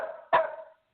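A single sharp dog bark rings out close by indoors, with a short tail of room echo and quiet before and after.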